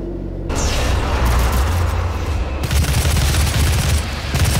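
A new weapon firing in the game Doom: silence, then a sudden loud burst of rapid, dense gunfire and booms that keeps going, briefly shifting and then intensifying again.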